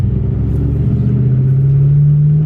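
A Jeep Wrangler being driven, its engine a steady close low rumble with a slowly rising pitch as it accelerates, continuous throughout without talk.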